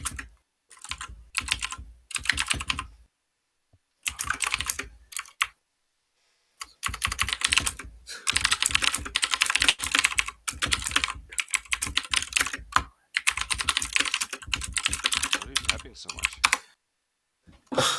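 Bursts of rapid clattering keystrokes on a computer keyboard at a desk, close and loud, broken by short silent pauses, with brief speech mixed in.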